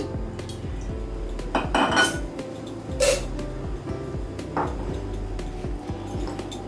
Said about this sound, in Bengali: এবার আমি প্যানে তেল দিয়ে দিচ্ছি